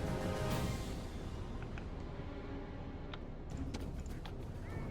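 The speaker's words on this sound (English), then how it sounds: "Okay, send the horses up." Cavalry horses gallop in the strategy game Rome Total War, a muffled drumming of many hooves under a continuous battle-field din, with no talking.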